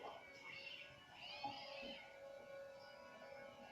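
A pet cat meows several times in drawn-out, wavering calls close by, with quiet pauses between them and low background hiss.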